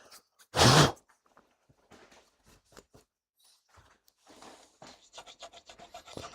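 A single loud rasping stroke of a chainsaw-sharpening file on a 1.8T engine part, followed by quieter, irregular scraping and rubbing strokes continuing intermittently.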